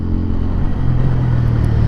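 Bajaj Pulsar P150 150cc dual-disc motorcycle braking hard on its front brake, a short steady engine and tyre drone holding close and loud, with no speech.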